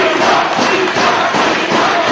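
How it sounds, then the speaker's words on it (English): Wrestling crowd at a Ring of Honor show in Detroit, a dense, steady roar of many voices filling the arena, loud and continuous with slight swells and no clear single voices. "And hearing it from the crowd here in Detroit, Delirious making his way back into the ring"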